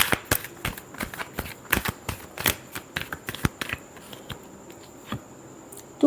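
Tarot cards being shuffled in a final pass during a love reading, giving a run of quick, crisp riffling snaps and patters with short pauses between bursts, close and fairly quiet with no talking.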